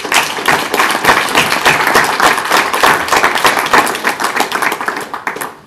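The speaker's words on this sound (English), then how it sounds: "So I need a round of applause for the parents as well," Loud, dense applause from a school board of education audience honoring parents, a steady wash of many hands clapping together for several seconds before tapering off at the end.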